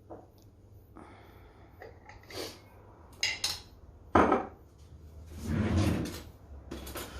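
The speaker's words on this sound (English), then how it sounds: "Always important to stir your tahini." A spoon stirs and scrapes through tahini in a jar in a home kitchen while baba ganoush is being made. It sounds like a few close clinks and scrapes with short pauses, and there is no talking.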